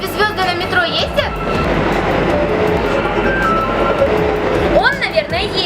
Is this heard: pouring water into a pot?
no